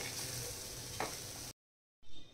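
Lentils sizzle steadily in a hot pan over medium heat, a soft continuous crackle that cuts off abruptly, then resumes briefly.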